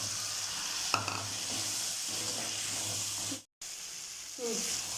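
Drumstick and brinjal sauté for a Pondicherry-style fish curry, with a steady close sizzle and frying hiss throughout, a brief stir clatter near the start and another toward the end, and a short gap partway through.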